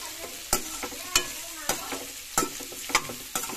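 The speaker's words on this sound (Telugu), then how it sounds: "ఇలా కలపండి." Carrot and beetroot sizzle in a hot pan as a spoon stirs them, with a sharp scrape about every half second over a constant soft frying hiss.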